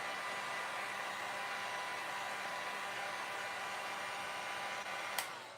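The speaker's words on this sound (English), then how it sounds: "since I'm getting my heat tool out, let's just real quick give this a zhuzh" A handheld heat tool blows steadily on waxed Christmas craft tags, an even close whooshing hiss held for several seconds before a click as it shuts off, no talk.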